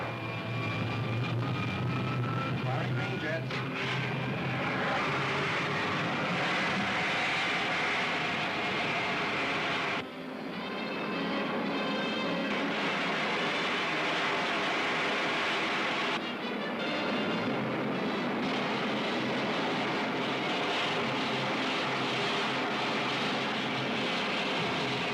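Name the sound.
spaceship jets firing, sci-fi film serial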